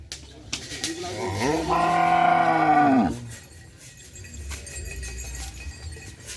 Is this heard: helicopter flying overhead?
no